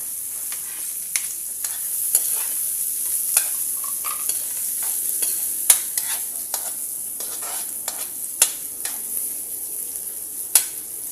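Ginger, onion and garlic sauté in a pan for salmon-head sinigang in miso, a soft continuous sizzle broken by sharp scrapes and clicks of stirring at irregular intervals, with no talking.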